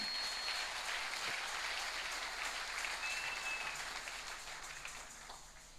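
Church congregation clapping together during a service, a dense sustained wash of applause that stays steady and then slowly fades toward the end, with no voices.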